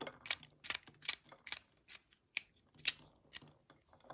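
Knife chopping fresh okra into small pieces on a cutting board, a steady series of crisp, close taps at an even rhythm, with no talking.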